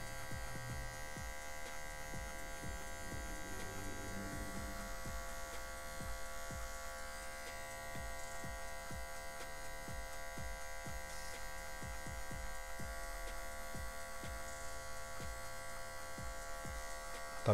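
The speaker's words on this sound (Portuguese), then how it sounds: "aqui eu tô usando um ângulo de 45 graus da maquininha" Electric hair clippers humming steadily at a barbershop cut, held at a 45-degree angle and working the hair with a constant close buzz and faint snipping ticks, quiet throughout with no talking.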